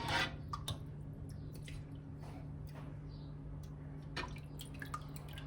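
Whey drips from homemade brined cheese straining in a cloth, faint scattered drips and soft wet plops at an irregular pace over a quiet background hum.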